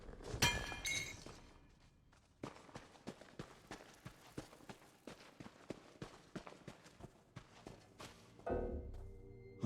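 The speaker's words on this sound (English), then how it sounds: "Ooh, you smashed that as flat as a flapjack." Objects smashing in the Elder Scrolls Online, a game set in Elsweyr: a loud crash at the start, then a long run of quick, sharp clinking and thudding hits, and a final burst of crashing at the end.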